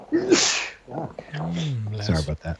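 A sharp sneeze bursts out close to the mic at the start, followed at once by someone speaking.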